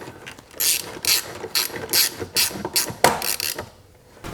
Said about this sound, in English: we'll go ahead and tighten up those 2 screws